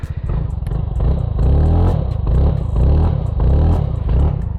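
A 2026 TVS Ntorq 150 scooter's exhaust, idling then revving in short repeated blips, loud and close, with a throbbing pulse between rises.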